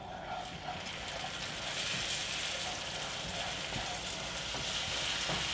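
Orange juice poured into caramelized butter and sugar in a pan for bananas Foster, a soft steady sizzle and bubbling that swells after the first couple of seconds, close and continuous with no talking.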